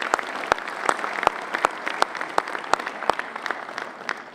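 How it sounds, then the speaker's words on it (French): Sparse, distinct handclaps ring out at an international tourism forum in Meknes, a handful of people clapping in a loose, uneven rhythm over a quiet room rather than a full ovation. "Sous vos applaudissements"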